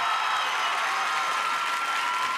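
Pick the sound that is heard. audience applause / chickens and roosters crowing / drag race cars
audience applause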